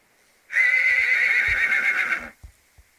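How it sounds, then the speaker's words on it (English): A loud, close horse whinny from the video game Star Stable lasting about two seconds, followed by a few soft hoof thuds. "she just can hear the horses neighing and stuff"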